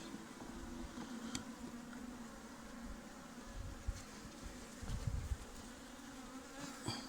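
Honeybees at an open hive during an October colony and stock check make a continuous, dense, low hum, with a few faint knocks and handling noises near the end.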